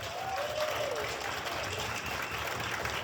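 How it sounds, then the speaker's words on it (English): A burst of audience applause, steady clapping from a crowd filling the space for a few seconds. "Let's give a big round of applause for Howie"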